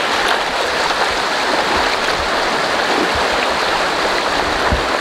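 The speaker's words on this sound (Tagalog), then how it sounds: "Napakalakas po ng current" Strong river current rushing steadily after a typhoon, at a river crossing: a loud, continuous broadband roar of flowing water with no pauses and no talk.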